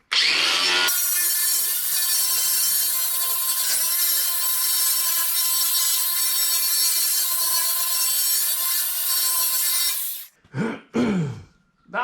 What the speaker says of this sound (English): You just got to clean off the epoxy from around the hole now.